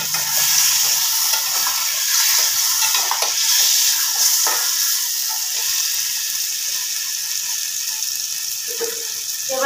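Potato and egg curry being stirred in a wok, with a steady sizzle and bubbling under repeated scraping strokes of a spoon against the pan, no voices.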